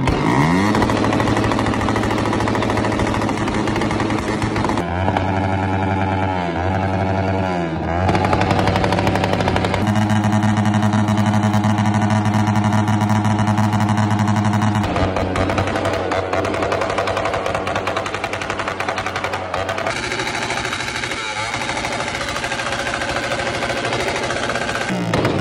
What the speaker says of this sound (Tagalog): ang highlight ng motor show. Umpisa na ng loudest pipe mga boss.